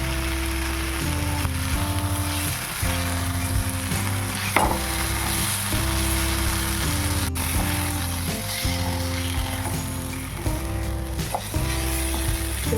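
Eggs frying in a well-cooked spice masala give a steady, close sizzle for the whole stretch, with a few soft stirring knocks and background music playing over it.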